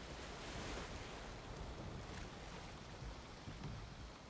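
Steady wind rushing over rolling ocean waves while a boat sails in Valheim, a soft, continuous wash with no voices.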